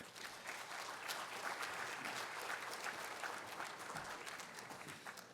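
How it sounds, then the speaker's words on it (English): An audience at a college lecture applauds to welcome a speaker to the stage, a steady, fairly close round of clapping that holds for several seconds and begins to fade toward the end. "with a round of applause, would you welcome him up to the stage real quick?"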